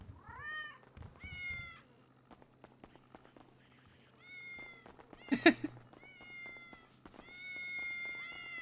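Several distinct cat meows from a game cat in GTA 5 roleplay, repeated across the stretch with one sharper, louder cry in the middle, over soft footsteps and faint background hum.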